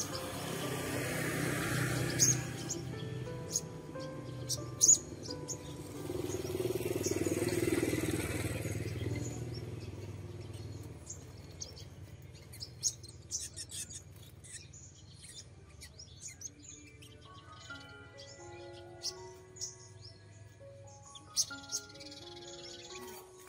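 Caged sunbirds give short, scattered high chirps and tweets, faint and intermittent over a low rumble of passing traffic, with the bird calls growing more frequent toward the end.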